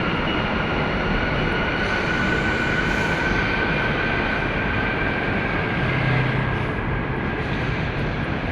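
Steady rumbling hum of an MRT metro train in motion, a constant roar of wheels and motor with a faint high whine, no voices.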